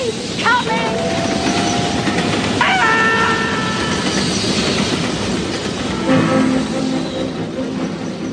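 A train runs along railway tracks with a steady clickety-clack and rumble, several bright wheel squeals rising over the constant loud rolling noise throughout.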